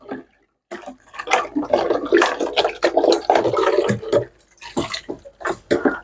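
Rinse water poured out of a blender jug, a splashing, gurgling pour that runs for several seconds with brief breaks, close and fairly loud.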